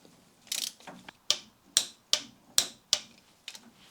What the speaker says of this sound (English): This needs to be torqued down to 25 Newton meters.